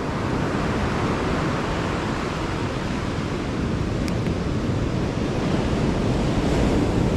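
Surf breaks on Bakung Beach in Pacitan, with a rocky shore on its eastern side. A continuous, loud roar of waves and wind fills the air and buffets the microphone, with no voices.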